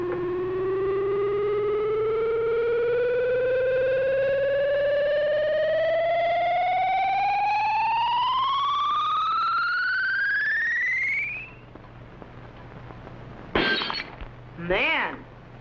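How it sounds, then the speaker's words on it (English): An ultrasonic ray beams at a glass jug in a testing chamber as a loud, continuously rising electronic whine. It cuts out after about eleven seconds, then two brief bursts of shattering glass follow. "whatever the beam hits will be instantly shattered by the ultrasonic sound wave vibrations."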